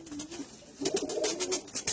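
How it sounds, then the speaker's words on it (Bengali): Soft coos from a flock of pigeons repeat in short low phrases, fairly faint, with a hiss of outdoor background and no talking. "সব একই ঝাঁকের পায়রা।"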